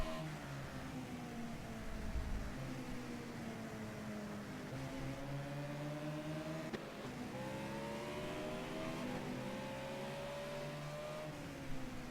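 Racing game engine audio whines in repeating stepped pitch sweeps, like phantom gear shifts, steady and moderately loud with no voices over it.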